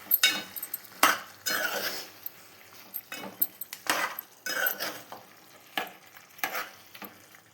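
A spoon stirs chicken curry with tomato in a metal pot, scraping and clinking in irregular strokes over a soft sizzle, close and fairly loud.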